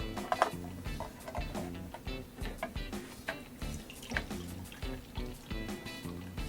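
Vegetable juice from a Kuvings B6000 slow juicer trickles and splashes softly through a strainer, a faint, steady liquid pouring sound with small irregular drips.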